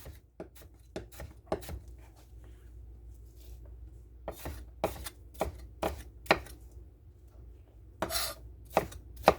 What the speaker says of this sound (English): And I just chop these up again, just like we did the zucchini.